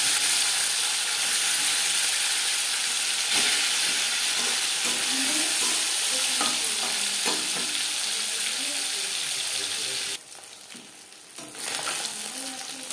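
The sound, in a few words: marinated katla fish frying in hot refined oil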